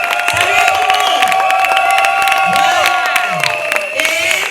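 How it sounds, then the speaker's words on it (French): Wedding guests at a civil marriage ceremony cheer and applaud as a family member stands, a loud, steady crowd roar with clapping, whoops and overlapping voices throughout. "Applaudissez"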